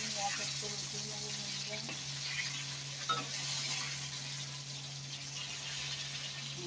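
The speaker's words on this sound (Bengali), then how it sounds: "মাছ ভাজাগুলো আমি এক এক করে উঠিয়ে নেবো" Fish fries in hot oil in a pan, making a steady close sizzle and crackle. A low constant hum sits underneath, and a few light clinks of utensils can be heard.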